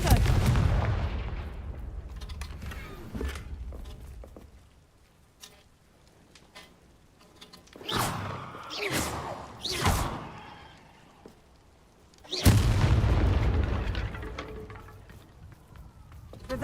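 Confringo fire spell blasts in Hogwarts Legacy: a burst at the start, then a cluster of sharp booms midway and one heavy blast near the end, each trailing off, with quieter clatter between and a voice casting spells.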